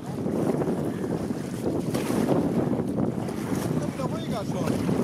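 A wind gust rushes over a sailboat at sea, a loud, continuous roar of wind buffeting the microphone, with water sloshing against the hull underneath.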